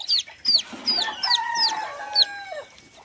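A desi (native Indian) hen clucks in a low, rhythmic series while high, sharp peeps from newly hatched chicks repeat above it, both close by.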